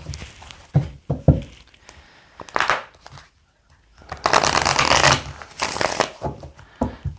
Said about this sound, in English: I put the cards back in the deck.